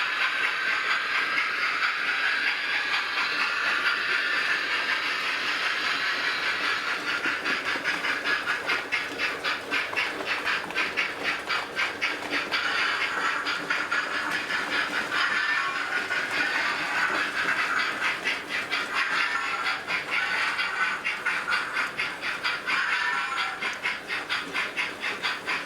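Model J36 steam locomotives run around a model railway layout, giving a steady hissing wash with fast rhythmic clicking of wheels on track, continuous and even throughout, no voices.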